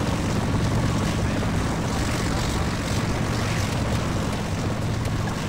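Continuous droning of a helicopter in a video game, a dense steady rotor and engine wash that holds at an even level for several seconds, with no talking over it.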